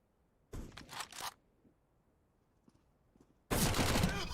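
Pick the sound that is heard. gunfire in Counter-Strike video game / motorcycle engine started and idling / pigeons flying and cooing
gunfire in Counter-Strike video game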